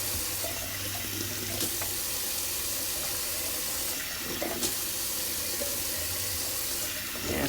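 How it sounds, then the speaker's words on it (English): A tap runs cold water steadily into a sink, a constant close splashing rush with small shifts as a razor is rinsed under the stream. "Just gonna do a cold water rinse."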